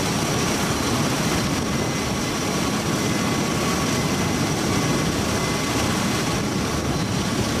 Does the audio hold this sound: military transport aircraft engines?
yes